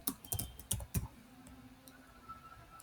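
A computer keyboard clicks out a short burst of taps as a password is entered during a PostgreSQL 15 install, a few close keystrokes early on and then quiet with faint background hum.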